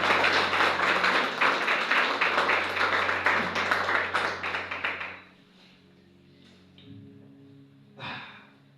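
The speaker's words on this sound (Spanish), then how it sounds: "Un aplauso al Señor." A church congregation gives a round of applause to the Lord, a burst of close hand clapping that stops abruptly about halfway, leaving quiet room sound with a few faint stray noises.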